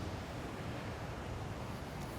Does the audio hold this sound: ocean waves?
yes